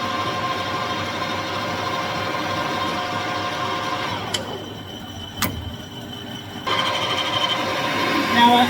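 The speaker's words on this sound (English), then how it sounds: "Now we'll put a centre drill in there, get things started." A centre drill starts a bore in a custom Triumph bobber motorcycle engine part on a machine, giving a steady mechanical whir that thins into a quieter, cleaner tone midway before the fuller running noise returns.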